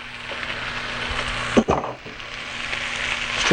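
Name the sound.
scallions being stir-fried in a pan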